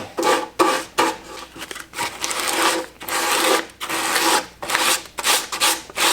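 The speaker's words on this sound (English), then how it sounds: "So just take your time, do a bit of sanding." Hand sanding of a surface in a laundry room, a close, steady scratchy rubbing in repeated back-and-forth strokes with brief pauses between them, heard alone without talk.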